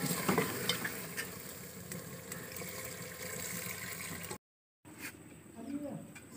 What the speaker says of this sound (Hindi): अब शोरबे के लिए पानी डालेंगे।